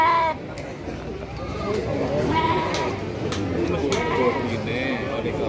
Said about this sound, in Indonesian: dan juga kambing Etawa Sindoro